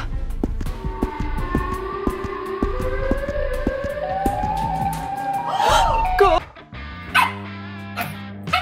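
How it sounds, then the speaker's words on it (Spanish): A dog barks repeatedly amid a cartoon scene's layered siren tones and music, the barks sharp and close, with a rising siren wail peaking before falling quiet. "¿Por qué ladras tanto?"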